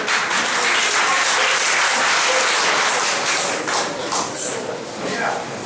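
Dense, sustained audience applause at a political speech, loud and steady throughout before easing slightly toward the end, with faint voices mixed into the crowd noise.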